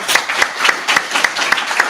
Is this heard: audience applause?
yes